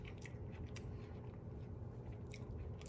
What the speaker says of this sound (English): Crunch of the jalapeno.